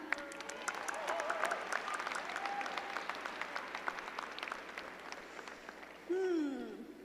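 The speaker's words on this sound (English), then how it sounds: "Give him a round of applause one more time" A commencement audience at a psychology department ceremony claps for a service award recipient, sustained crowd applause with a few sharper nearby claps and a brief whistle-like cheer rising near the end.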